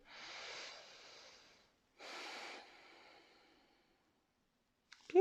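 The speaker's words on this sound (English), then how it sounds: "Take a breath or two." Two slow, deep breaths taken during seated chair yoga, each a soft airy inhale or exhale heard close and alone in a quiet room, followed by a brief faint click at the end.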